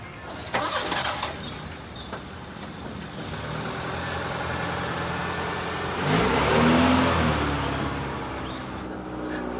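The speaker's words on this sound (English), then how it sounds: "He's just driven off." A car engine cranks and starts, then revs up and pulls away, its steady rumble swelling and fading as it drives off, with faint birdsong in the background.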